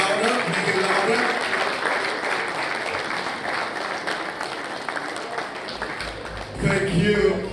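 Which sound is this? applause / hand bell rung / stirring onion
applause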